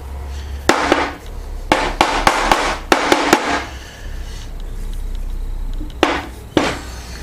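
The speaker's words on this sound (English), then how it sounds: "I'm just going to take a dead blow. See if I can loosen that up." A dead blow hammer strikes a metal Ash & Co. 8-inch 3-jaw lathe chuck to loosen it. About nine sharp, close blows land in bursts, some in quick succession, with pauses between groups.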